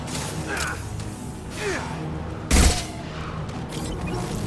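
Gunfire in the video game Mass Effect: a single loud, sharp burst cuts through steady in-game ambience and mechanical noise, then fades quickly.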